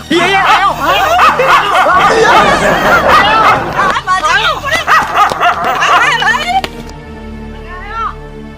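A dog barks repeatedly in a village setting, loud and close, the barks scattered among overlapping voices of people talking and laughing, then the clip ends on quieter talk.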